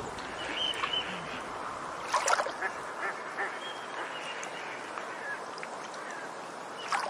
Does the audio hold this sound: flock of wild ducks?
yes